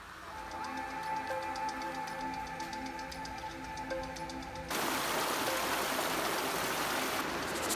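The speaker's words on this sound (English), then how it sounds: "as we walked through the woodlands we found a little bit of river just to ourselves" A small river stream in woodland at Abinger Hammer, England, rushes steadily. Its broad hiss starts under a faint tonal hum, then grows louder and more constant about halfway through, with no talking.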